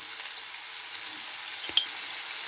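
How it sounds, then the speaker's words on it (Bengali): Potato and cauliflower pieces fry in a pan with a continuous, even sizzle, joined near the end by a single soft scrape of a stirring spoon and no talking. "একটু হালকা করে ভেজে নেব। আলুটা তো শক্ত থাকে, একটু নাড়াচাড়া করে নিলাম।"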